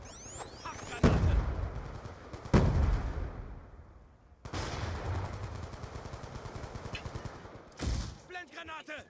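Loud gunfire in Call of Duty: Black Ops 2 multiplayer: a few heavy shots, then rapid sustained automatic bursts, with a voice briefly speaking near the end.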